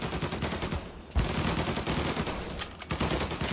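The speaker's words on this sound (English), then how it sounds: "They all have Tommy guns." Tommy gun fire in Mafia Definitive Edition, rapid bursts of automatic shots rattling loudly and almost continuously, with a brief gap near the one-second mark before the firing resumes.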